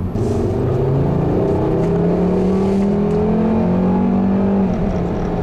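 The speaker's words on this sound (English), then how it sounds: "it makes the typical, you know, strange 5-cylinder noises" A 2011 Volkswagen Jetta SEL's 5-cylinder engine revs at full throttle, a loud droning tone climbing steadily in pitch, then briefly dropping as the car accelerates, with no talking.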